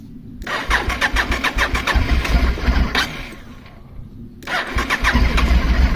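A Honda Varadero motorcycle with about 182,000 on the clock cranks over with the starter and its engine catches, running in neutral without choke, loud and close, the rumble rising and settling into a rough idle.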